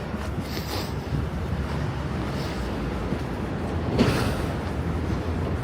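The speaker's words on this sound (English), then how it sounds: "but it is very windy" Gusty wind buffeting the microphone on a Manhattan street on a March morning, a constant low roar that swells briefly, with faint city noise beneath.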